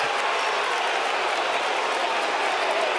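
A basketball arena crowd at a college game between Kentucky and Arkansas applauds steadily after a missed dunk, a dense, continuous wash of clapping and crowd noise with no break or speech over it.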